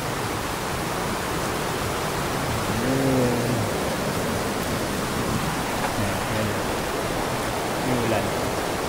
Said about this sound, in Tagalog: napakalakas na ulan.